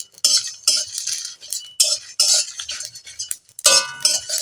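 Coriander and cumin being dry-roasted in a pan produce a rattly, scraping sound as a metal spoon stirs them in short, irregular strokes close by, with small clinks against the pan.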